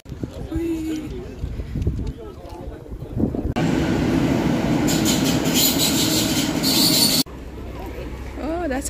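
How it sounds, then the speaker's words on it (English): A Swedish train arrives with a loud rushing rumble and metallic wheel hiss that swells and then stops abruptly, with people talking nearby before it. "Oh, that's our train, I think."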